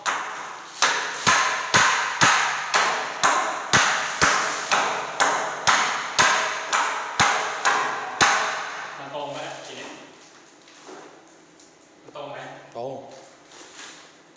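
Sharp, regular hammer blows ring out close and loud, about fifteen evenly spaced strikes, while drain pipes are installed in a factory; the hammering stops and people talk afterward.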